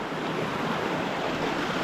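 A little river flowing under a footbridge near a Grampians trailhead gives a steady, close, broadband rush of water without pauses or voices.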